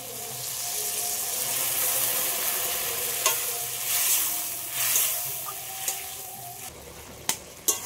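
Fried dried Bombay duck (lote shutki) goes into a hot pan with bitter gourd and eggplant and is stirred, a steady close sizzle broken by spatula scrapes and a few sharp knocks against the pan near the end.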